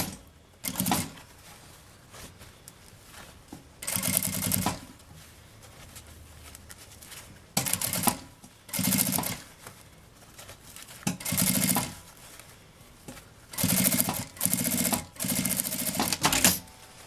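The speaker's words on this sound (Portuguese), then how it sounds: "E vamos costurar ele aqui pra fazer o acabamento." A sewing machine stitches folded bias binding onto the edge of a travel vanity case in a run of loud, rapid bursts, each a second or so long, separated by short quiet pauses.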